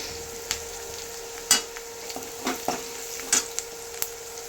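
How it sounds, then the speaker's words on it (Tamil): Sambar powder sautéed and stirred in a pan, a low steady sizzle broken by a few sharp spoon clicks and scrapes against the metal, with no talking. "இந்த மாதிரி நல்லா சாம்பார் பொடி ரா மில் போகிற வரைக்கும் நல்லா வணக்கிட்டு"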